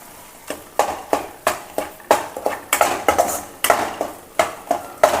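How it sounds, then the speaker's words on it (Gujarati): Flour roasts in ghee in a pan for farali sukhadi while a spoon scrapes and knocks against the metal. Rhythmic, close strokes come roughly twice a second, sharp and fairly loud, with no talk. "લોટને શેકી લેશું આ રીતના થોડું એવું ઘી બાદમાં ઉમેરવાથી એકદમ સરસ રીતના લોટ શેકાય છે"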